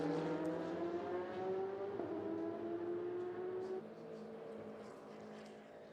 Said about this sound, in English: as the Porsche now has a lot more pace. As they make their way down to turn number 5.